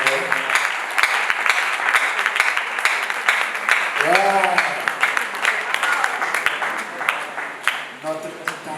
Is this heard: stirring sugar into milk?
no